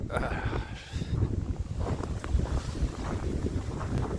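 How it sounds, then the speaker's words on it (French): Winter wind in Montreal at minus 27 degrees buffets the microphone with a low, rumbling roar that stays steady throughout, loud and close, with no clear voices. "Le vent est dégueulasse."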